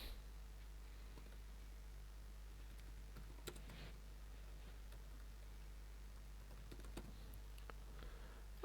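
Typing on a computer keyboard while writing text into a document: faint, close key clicks in scattered short bursts over a steady low hum, no voices.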